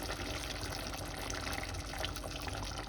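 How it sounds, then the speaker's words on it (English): Tomato passata pours into a pot of family ragù, a steady wet liquid stream running continuously and fairly faint at close range with no voices. "And now I'm going to add the passata, tomato passata."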